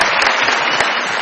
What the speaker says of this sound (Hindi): बहुत सारी तालियां तारिक बेग साहब के लिए